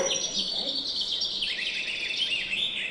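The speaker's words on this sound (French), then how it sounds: "Oiseau. Oiseau. Printemps." Small birds chirp and twitter continuously in a spring garden, a steady bright chorus of tweets at moderate distance with no talk over it.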